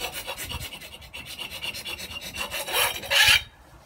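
Hand scraper shaving high spots off cured epoxy on a boat hull, a series of rapid rasping strokes that grow louder and harsher toward the end before stopping abruptly.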